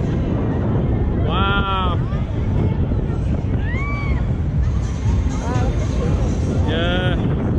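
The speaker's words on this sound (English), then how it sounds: "Whoa, it is windy. Very windy." Strong wind buffets the microphone in a constant low roar at the top of a spot at St Giles' Fair in Oxford, with faint distant voices and brief tonal squeaks poking through.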